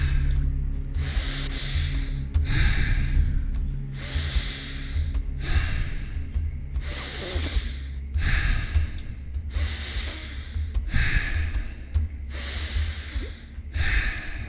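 Slow, deep breaths in a live guided meditation, each long airy inhale and exhale repeating in a steady cycle of roughly one-second bursts, close and clear with no talking.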